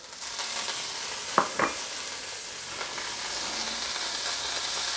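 Dark soy sauce hits a hot wok of Szechuan chilli garlic noodles and sets off a steady, fairly faint sizzle and hiss. A couple of brief sharp clinks of a utensil on the pan stand out, and no one talks.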